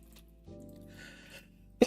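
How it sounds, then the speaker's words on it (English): A single short sneeze bursts out near the end of a quiet stretch of Bloons TD Battles game audio, sharp and close. "I had to sneeze right as we defended"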